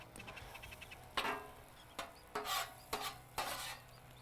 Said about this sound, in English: now we're just going to take this scramble, mix them all